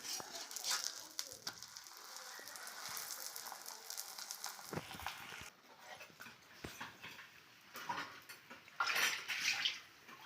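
Ghee sizzles on a hot dosa griddle as a stuffed Coimbatore paruppu poli cooks, a soft, close crackle and hiss with scattered pops and louder sizzling bursts toward the end.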